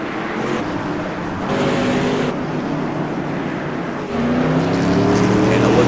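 CRA Tour Modified race cars roar around Thompson Speedway in a steady, loud engine drone, with a fresh rising engine pitch joining near the end as another car passes close.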